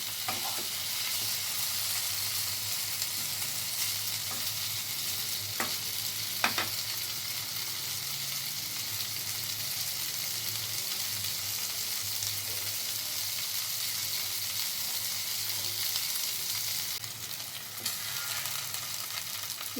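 Paneer cubes frying in butter in a pan give a steady close sizzle through the whole stretch, with a few brief scrapes and clinks of a utensil stirring the pieces.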